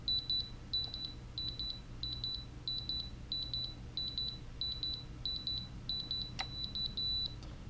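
A Blade Inductrix quadcopter in radio bind mode emits rapid double beeps in a steady repeating pattern, high-pitched and fairly close, with a low hum underneath.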